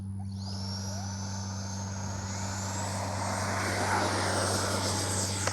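A small RC model L-39 jet flies overhead with a steady, loud whining roar, its pitch sliding as it passes close, sustained throughout under a constant low hum.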